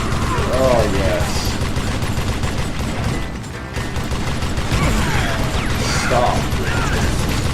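Cranking chain gun sound effect: a dense, continuous mechanical rattle of rapid clicking and ratcheting with gunfire-like bursts, loud and close throughout, with a brief dip midway and a short spoken word over it.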